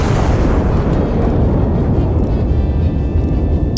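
A big gun fires in a video game, heard as a loud sustained roaring blast with a rumbling, noisy body that holds steady and then tails off slightly.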